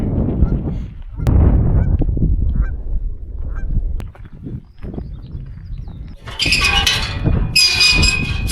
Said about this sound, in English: Confident that's a Canadian goose over there.